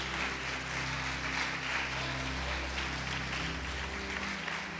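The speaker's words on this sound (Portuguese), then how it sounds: "Pode aplaudir o Senhor Jesus e glorificá-lo." A church congregation applauds during worship, a soft, sustained spread of clapping beneath a steady low hum and sustained tones, likely from keyboard or sound system.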